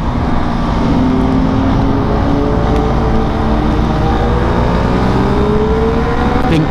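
A Suzuki Raider 150 motorcycle is ridden hard, its engine revving high and sustained with a steady rising whine against constant wind and road noise.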